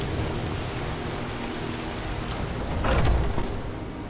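Steady rain in the video game Skyrim pours down in a constant hiss, with a brief low rumble swelling near the end.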